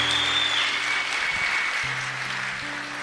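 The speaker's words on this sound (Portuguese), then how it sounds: "você está aplaudindo por quê?" Audience applause filling a church or lecture hall during a Catholic sermon, a steady dense clapping that carries on for about three seconds at an even level with no voices over it.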